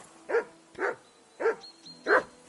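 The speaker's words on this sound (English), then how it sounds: "What's wrong with this dog, bro?" In Kingdom Come Deliverance 2, a dog barks four times in a steady, evenly spaced rhythm, each bark sharp and fairly close.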